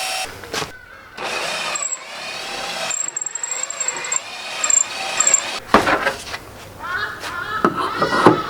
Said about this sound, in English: I'm going to drill a pilot hole over there